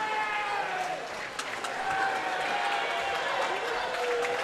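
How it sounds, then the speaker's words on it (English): A basketball crowd in a high school gym applauds during a timeout, a broad, sustained spread of clapping and murmur with some sharper hand claps, heard at a distance under faint tones from the arena. "Jake Easton saying, hey, give us a round of applause"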